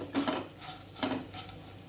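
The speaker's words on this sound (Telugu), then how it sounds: "ఇప్పుడు ఒక నిమిషం ఈ ఉల్లిపాయలతో పాటు ఫ్రై చేసేసుకోవాలి" Bitter gourd pieces are stirred and fried with onions in a pan. Two distinct scraping stirs sound close over a soft, continuous sizzle.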